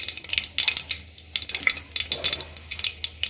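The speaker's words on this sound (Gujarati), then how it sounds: "હવે રાઈ સાંસરી જાય પછી તેમાં થોડું જીરું ઉમેરીશું" Mustard seeds spluttering in hot oil as cumin is added for a tuvar dal tempering, bursts of crisp, rapid crackling pops close by with brief pauses between them, alone without speech.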